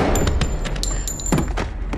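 Gunfire in a film scene where two people shoot each other, heard as a dense burst of sharp shots and thuds layered over a loud, busy soundtrack, with several strong cracks clustered near the middle.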